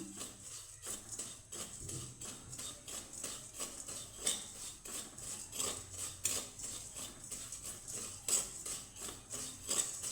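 Flattened rice (chira) stirred and dry-fried with salt in a pan without oil, giving a steady, busy scraping and rattling of flakes against the metal, with frequent clinks of the spoon throughout.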